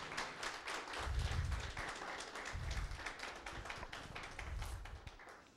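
A church congregation claps for the Lord during a Spanish-language sermon, fairly faint and distant, with the clapping swelling in a few rhythmic waves over a low, booming background.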